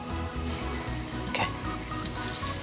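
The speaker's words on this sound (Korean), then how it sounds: "지글지글지글 정말 먹음직스럽죠?" Steady frying sizzle of fatsia shoot (dureup) pancakes in a hot pan, with soft crackles and pops and no voices.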